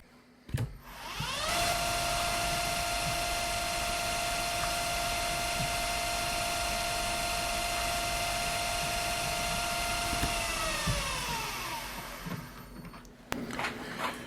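A lathe spins up and holds a steady whirring, whining tone for several seconds while cutting a titanium screw, then winds down, with a few clicks at the start and end.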